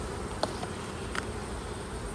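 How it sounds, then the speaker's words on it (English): Honey bees crawl and hum in an open hive in Maine, a soft continuous buzzing with a couple of faint clicks, heard alone and fairly quiet. "Plenty of bees. There's enough bees to make honey."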